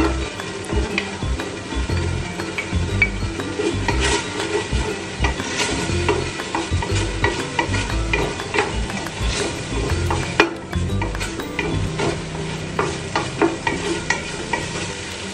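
Garlic fries in a pan for laing, a loud continuous sizzle with frequent stirring scrapes and utensil knocks against the pan throughout.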